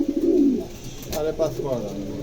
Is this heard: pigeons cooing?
yes